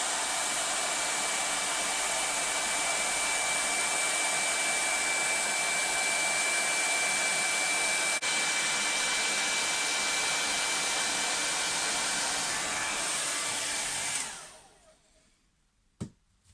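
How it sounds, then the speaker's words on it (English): A hairdryer on full heat runs as a loud, steady whoosh held close to masking tape on a watercolour painting, then cuts off near the end, leaving a brief click. "So I'm going to put the hairdryer on full heat and gently ease it off."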